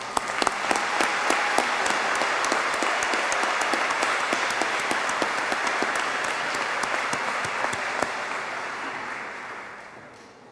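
Large commencement audience applauding the graduates at a 2016 graduation ceremony, sustained dense clapping at full strength for about eight seconds before tapering off.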